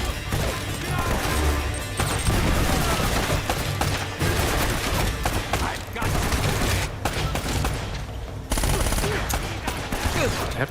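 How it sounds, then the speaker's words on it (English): Dense machine gun fire in the action-adventure game Uncharted: Drake's Fortune, loud and continuous bursts with crashes and impacts mixed in, and a voice talking underneath at times. "oh, you got a machine gun"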